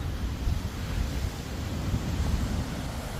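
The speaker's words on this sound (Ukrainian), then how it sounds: "і любувався бурхливим Карибським морем" Stormy Caribbean Sea surf pounding the shore in Aruba, a dense continuous roar of waves mixed with gusty wind buffeting the microphone.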